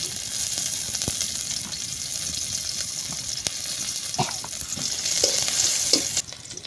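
Onions frying in oil hiss and sizzle in a steady, loud crackle, broken by scraping stirs and a few splashy clatters toward the end.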